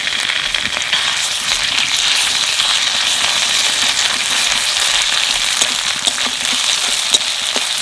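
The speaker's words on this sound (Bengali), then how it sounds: "পেঁয়াজ একটু ভাজা ভাজা হয়ে গেছে, এখানে দিয়ে দেবো আদা রসুন বাটা।" Onions sizzle steadily in hot oil in an outdoor pan, a dense continuous crackle before ginger-garlic paste goes in, with no talking over it.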